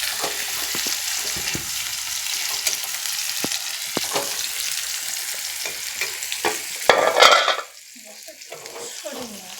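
Chopped onion fries in generous oil in a wok while a utensil stirs it, scraping and clinking against the pan. The sizzle stays steady and close, with a louder burst of stirring near the end before it quiets.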